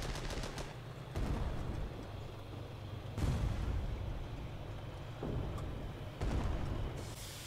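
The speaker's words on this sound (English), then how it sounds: "Stop shooting at me!" Gunfire and cannon blasts in the tank game Armoured Battle Crew. Several sharp bursts land at intervals over a rumbling engine bed, moderately loud and without speech.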